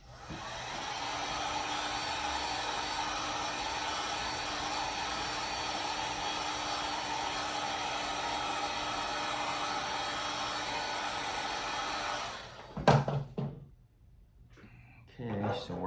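A heat gun blows hot air onto a Babolat racquet's bottom grommet strip, a steady loud whooshing drone lasting about twelve seconds before it cuts off, followed by handling clatter and quiet room tone.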